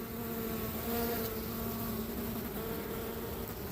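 Steady, dense buzzing of many honeybees around a swarm trap, continuous and fairly loud throughout, with a low hum and no talking.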